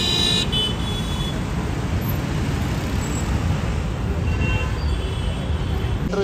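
Steady roar of Delhi road traffic at night near India Gate, with passing vehicles and a brief horn toot, continuous and fairly close throughout.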